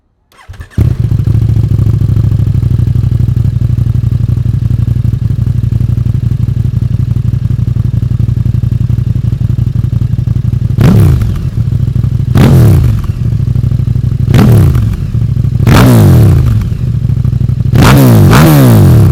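A KTM Super Duke 1290R with an Akrapovic Evo titanium exhaust, baffle fitted and racing map, fires up and settles into a loud, lumpy idle, then five sharp throttle blips rev it up toward the end.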